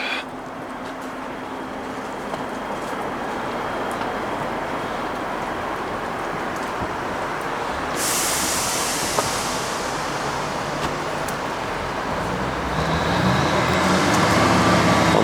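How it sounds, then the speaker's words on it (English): A Class 158 diesel train stands at a station, its engine a steady broad rumble throughout, with a brighter hiss of air or exhaust joining partway and the noise swelling louder near the end. "Right, so this train can play us out."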